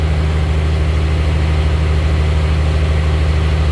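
A heavy truck's diesel engine idles steadily while building air pressure before the PTO is engaged, a loud, constant low rumble with no breaks.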